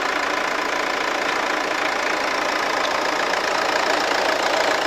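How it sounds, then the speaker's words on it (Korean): The diesel engine of a Renault Samsung SM5 car idles steadily with a rough, rattly knock and faint vibration, continuous and close by, with no voices. "엔진 소리 같은 경우에는 디젤이다 보니까 정숙하면 좀 떨어지고 약간의 진동은 느낄 수 있는데"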